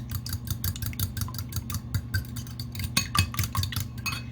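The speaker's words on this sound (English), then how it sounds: "To the eggs, I'm going to go ahead and break up that yolk" Egg yolks are broken up and beaten in a bowl with a utensil. Quick, rhythmic clinks and taps against the bowl continue throughout over a low background hum, with no talking.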